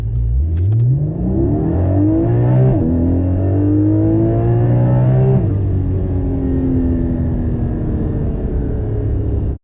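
A Porsche engine revving with the Sound Symposer switched off, two rising revs climbing in pitch then settling into a steady loud drone, heard alone without talking.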